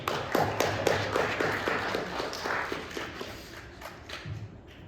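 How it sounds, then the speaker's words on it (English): An audience gives a round of applause for veterans at a lecture-recital, a steady wash of clapping that holds through most of the clip before thinning out toward the end. "let's all give a big round of applause"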